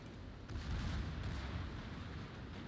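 Warship shells boom in a naval battle in the World of Warships video game, a low rumbling barrage of artillery fire that swells and rolls on steadily at low volume.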